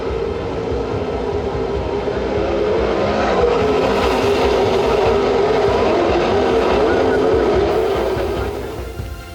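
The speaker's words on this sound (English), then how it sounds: "Drag race down the back straightaway." Sprint cars roar down the back straightaway during an Indiana Sprint Week dirt-track race, with a loud, sustained, dense engine blare that swells and holds before easing slightly at the end.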